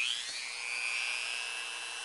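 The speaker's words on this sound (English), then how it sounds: "I will take the Dremel and get some of this calcium deposits off of here" Dremel rotary tool grinding calcium deposits off a bird's beak, a steady high-pitched whine held close and continuous, fairly quiet throughout.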